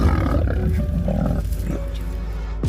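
A lion gives a deep, rumbling roar while attacking a crocodile, a sustained guttural growl that is loud and close and fades near the end.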